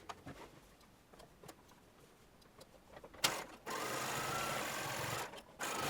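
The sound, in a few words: sewing machine stitching a dress seam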